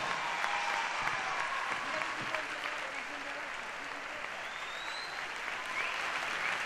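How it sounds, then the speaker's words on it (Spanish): Steady applause from a drag show audience at a gala in Corralejo fills the stage space, continuous and fairly loud throughout, with a voice faintly audible underneath. "Mulciel, fuerte el aplauso."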